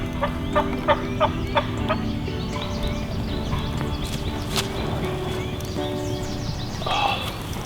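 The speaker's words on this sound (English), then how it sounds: "all of a sudden a huge gobbler came charging in right in front of us" A wild turkey gobbler gobbles outdoors during a spring hunt, a rapid rattling call that is fairly distant and blends with a dense background of other birds.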